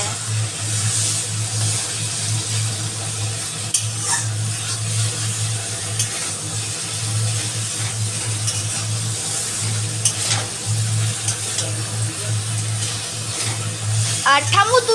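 Steady frying sizzle and stirring of a kochur shak curry with ilish fish cooking in a pan on a gas stove, close and continuous beneath intermittent talking.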